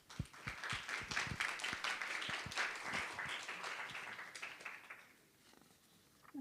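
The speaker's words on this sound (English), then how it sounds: "Let's give her a big round of applause." A forum audience applauds a speaker joining online, a burst of individual claps that thins out and fades to quiet near the end.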